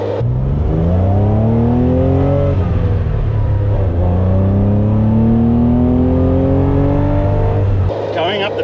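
A Porsche 911 with a 2.2-litre engine revs hard and close, its pitch climbing in two long sweeps with a brief dip between shifts, loud and continuous, then cutting off near the end.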